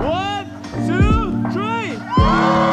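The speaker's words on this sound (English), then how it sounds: "Everyone cheer as loud as you could" Wedding guests cheer and whoop loudly together in bursts of high, ringing voices that rise and fall, with shouts from a large group outdoors.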